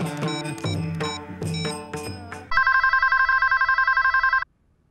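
Recorded music plays first, then a telephone rings as a call is placed to family. The electronic ring pulses in a fast, even trill for about two seconds, then cuts off into silence.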